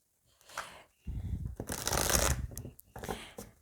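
Oracle cards being shuffled and cut during a tarot-style reading, giving a few quick riffling and flapping bursts of card noise, close and fairly loud, with short pauses between them and no talking.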